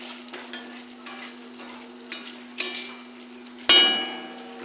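Spice paste (masala) for prawn malai curry frying in oil in a pan, a low steady sizzle with repeated scraping stirs, then a sudden loud clatter near the end that swells the frying noise.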